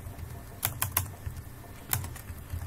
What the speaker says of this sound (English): Then you type